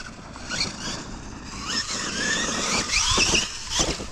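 A Losi LMT RC monster truck makes a wheelie attempt, its electric motor whining and squealing in rising bursts while the tires scrabble, fairly close and with no talking.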